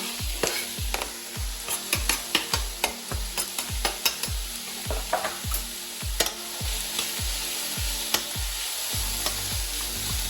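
Garlic frying in a hot pan, a steady sizzle broken by frequent scraping stirs and clatter as it is moved around, close and fairly loud with no talking.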